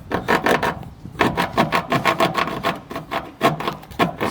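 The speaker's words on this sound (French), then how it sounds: "Voici un mec qui scie." Rhythmic back-and-forth rasping of a saw cutting wood, steady strokes repeating close by with brief pauses between bursts.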